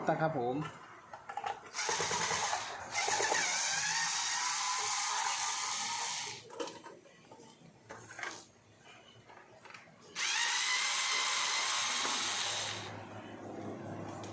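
Screws are backed out of the casing of a data recorder before a hard disk is fitted. Two long, loud, whirring runs are separated by softer clicks and handling noise.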